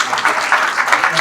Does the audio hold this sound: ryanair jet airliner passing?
no